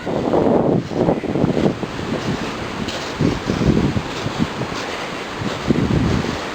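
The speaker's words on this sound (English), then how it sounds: "The wind has picked up." Wind gusts across the old Dosewallips road on a snowy mountain, a steady rushing roar that swells and buffets the microphone in uneven surges.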